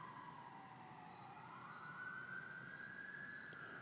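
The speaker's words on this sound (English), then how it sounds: "Sirens." Emergency vehicle sirens outside, faint and distant, a slowly rising and falling wail that sweeps up in pitch and holds, over a quiet background with no talking.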